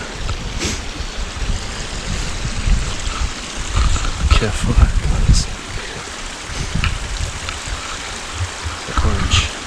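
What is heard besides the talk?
river flowing in Carragooms National Park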